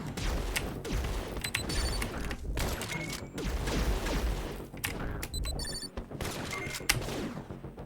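Sniper gunfire in the action video game Katana ZERO: sharp, repeated shots crack out at irregular intervals amid dense, busy game effects and chiming electronic tones, loud and close throughout with no voices.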